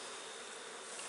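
Honey bees buzz densely around a two-queen hive of two stacked boxes with a queen excluder between them, a steady close swarm drone filling the short moment without any voices.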